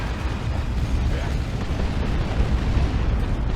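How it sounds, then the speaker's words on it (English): Rocket-run strike in the Dawn of War 2 Retribution strategy game, a dense, continuous rumble of booming explosions and rattling blasts that stays loud throughout the few seconds. "Oh, that's a rocket run."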